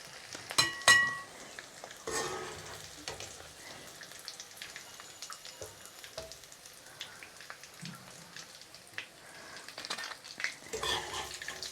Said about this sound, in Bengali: আপনারা এইভাবে চুলার তাপটা মিডিয়াম আঁচে দিয়ে এপিট ওপিট করে লাল করে ভেজে নেবেন।